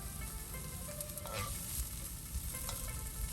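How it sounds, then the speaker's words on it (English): Onions, garlic and hot pepper fry steadily in a pan for a Guyanese-style fried rice, a dense, close crackling sizzle with a few brief scraping stirs and no voice. "Let that continue to fry until the onions are caramelized."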